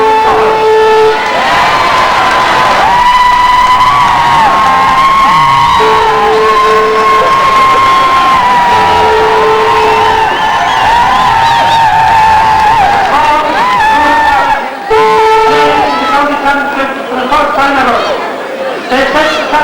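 A loud crowd at a 1993 Gaelic football county final roars and cheers continuously, with whoops and shouts rising over a constant wash of noise and a sustained tone running through.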